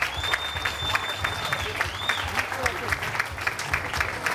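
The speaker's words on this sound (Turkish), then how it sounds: "Büyük bir alkış istiyorum." A crowd at a dental clinic branch launch in Istanbul gives a big round of applause, dense, even clapping that runs throughout, with voices and some cheering mixed in.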